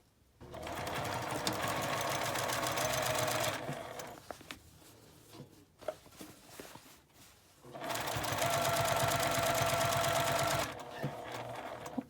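A sewing machine stitches a one-centimetre seam allowance on a drawstring bag in two long bursts of fast, even whirring, close up, with a quieter stretch of handling and fabric sounds between the runs.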